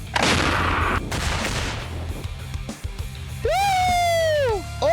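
A Carl Gustaf M2 recoilless launcher fires a sharp blast at the start, followed by echoing rumble and debris noise, then a rising-and-falling whistle near the end.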